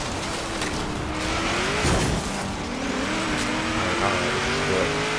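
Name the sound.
race car engine revving in Forza Horizon video game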